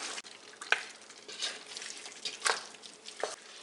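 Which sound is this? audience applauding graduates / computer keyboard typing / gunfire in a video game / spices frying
spices frying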